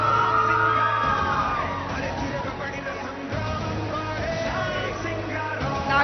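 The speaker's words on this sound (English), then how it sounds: "A big round of applause" A large audience at the India Today Conclave cheers, whoops and yells as actor Nani is welcomed on stage, a loud, dense crowd roar that stays steady, mixed with some voices.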